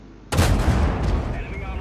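A single loud Caernarvon tank cannon blast in a video game erupts abruptly, followed by a long rumbling decay with some background noise.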